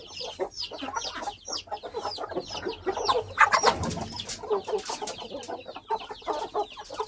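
Several chickens cluck and squawk continuously in a busy, close-up chorus, with overlapping calls and no talking.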